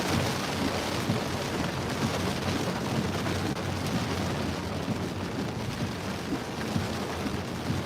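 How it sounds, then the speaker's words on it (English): Heavy rain pours down during a drive, a dense, loud, unbroken roar of water on the vehicle with a low rumble underneath. "What a downpour."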